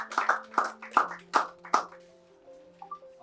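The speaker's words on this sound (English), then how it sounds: "Please let's clap, let's clap," A few loud, separate claps close by at the opening of a shelter commissioning event in Lagos, spaced about every quarter second and then fading out, while a steady hum and faint voices sit beneath.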